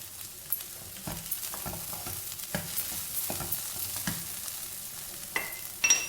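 Capsicum and egg stir fry sizzles steadily in a pan, a continuous frying hiss broken by irregular scraping stirs and a few louder clatters near the end, with no voices.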